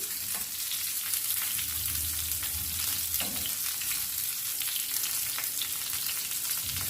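Chicken keema patty sizzling in a pan, a steady close crackling fry with soft stirring scrapes and no voices throughout.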